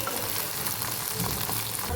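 Cluster beans frying in hot oil in a pan give a dense, continuous sizzle, close and even, with faint stirring and no talk.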